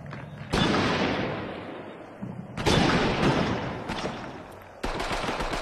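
Sniper shots in a Horizon Worlds 2v2 Super Rumble tournament match: three loud, sharp broadband blasts, each with a long decaying tail, a few seconds apart, with some fainter cracks between them and no talk.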